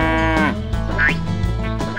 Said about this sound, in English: The cow crept closer to the flower garden.